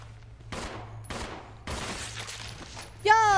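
Several close, loud gunshot bursts from the survival-horror game Resident Evil 0 HD Remaster fire in quick succession, with a brief tonal game cue at the end and a faint voice in the background.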